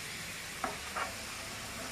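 Prawns being lifted out of hot oil in a pan give a steady, fairly quiet sizzle, with two brief scraping stirs near the start.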